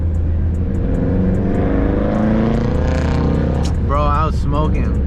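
A flame-tuned Nissan GT-R pulls hard with a loud, rising engine roar that holds steady throughout, and excited voices shout over it near the end.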